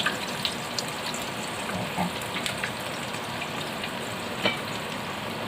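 Potato cheese balls deep frying in hot oil give a steady, crackling sizzle with scattered pops and bubbling bursts, close and continuous throughout with no talking.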